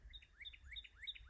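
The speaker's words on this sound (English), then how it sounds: "Birds are singing." Several birds chirp and sing outdoors on a bright spring day, repeated rising tweets coming in a steady rhythm, moderately close, over faint low background rumble with no talking.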